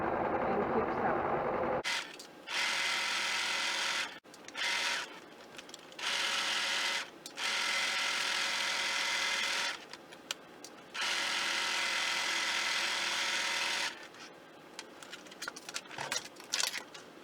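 A sewing machine stitches through the layers of a patchwork cross-stitch clutch, running in several steady bursts of a few seconds each, separated by short pauses where the needle stops and the fabric is turned at corners.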